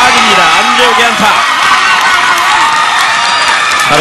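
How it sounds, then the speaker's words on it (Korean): Crowd at a Korean celebrity baseball league game cheering a base hit, a loud sustained roar of shouts and whoops with higher voices, while commentators talk over it. "다른 어떤 선수보다 큰 환호성이 쏟아지고 있습니다"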